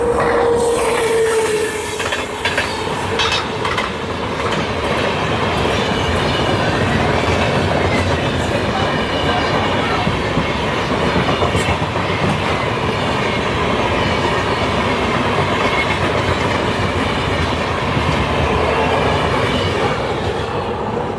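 Kerala Express running from Thiruvananthapuram to New Delhi thunders past on the railway, a loud, steady roar of wheels and carriages with rhythmic clatter and a brief wheel squeal at the start, continuous for the whole stretch.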